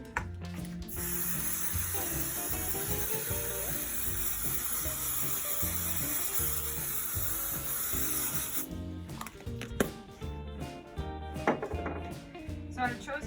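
Short bursts of 505 temporary fabric adhesive being sprayed onto ribbon for a skirt, a steady hissing spray for several seconds, close and fairly loud, followed by lighter handling and rustling sounds.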